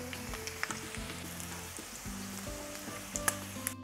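Rolled chicken taquitos fry in hot oil with a steady, close crackling sizzle, scattered pops rising above it, while low tonal music plays underneath throughout.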